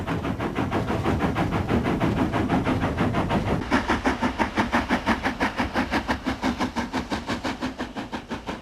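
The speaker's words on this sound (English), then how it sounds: "the loco is working so hard with the regulator wide open" Steam locomotive 841 working hard with the regulator wide open, its loud exhaust beats pounding in a fast, steady rhythm that sharpens into distinct chuffs partway through, with rolling wheel and rail noise underneath.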